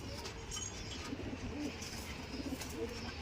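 Punjabi pigeons coo softly in a loft, several low, rolling calls repeating against a steady background hum, faint and nearby, without speech.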